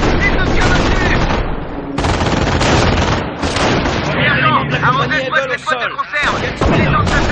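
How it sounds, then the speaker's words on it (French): Dense gunfire and artillery booms from the Company of Heroes game, with loud continuous machine-gun bursts and heavy blasts, close and intense, with voices shouting in French over the din. "Attention les gars! Il nous tire dessus!"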